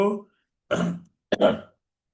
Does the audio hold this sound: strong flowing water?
no